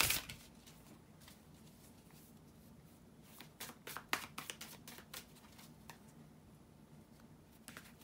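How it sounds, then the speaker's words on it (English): Quiet, soft clicking and pattering of tarot cards being shuffled by hand, in irregular quick bursts against a faint background hum. "bear with me a couple of seconds, guys, to shuffle the tarot cards"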